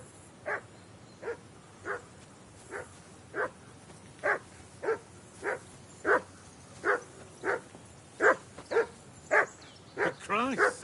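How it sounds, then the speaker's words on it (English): A dog barks steadily in a video game, about eighteen evenly spaced woofs that grow slightly louder and more excited toward the end, standing alone without talk. "Call off that damn dog before he wolfs down the last of our mates."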